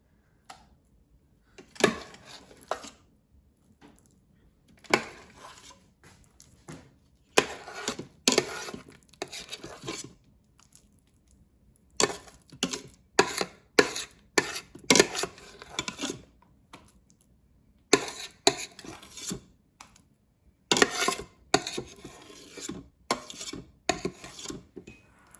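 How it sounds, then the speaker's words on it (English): A spoon scrapes and scoops mashed potatoes out of an Instant Pot's metal inner pot into a bowl, giving repeated short rasping scrapes in bursts with quiet pauses between them. "now let me transfer the mashed potatoes out of the Instant Pot into a bowl"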